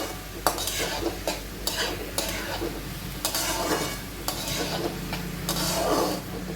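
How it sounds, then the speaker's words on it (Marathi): Onion and tomato sautéed in a pan over a high flame, with a steady sizzle and repeated sharp scrapes and clinks of a spoon stirring against the metal, sounding close and continuous. "हे दोन्ही आपल्याला तेल सुटेपर्यंत परतून घ्यायचं आहे चांगलं."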